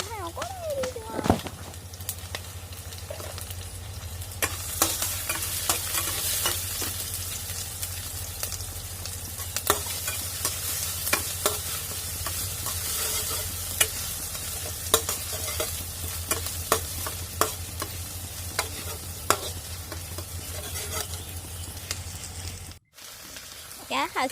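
Panch phoron spices crackle and sizzle in hot oil, a continuous frying hiss with many sharp pops and clicks over a low steady hum, close by, with brief voice in places.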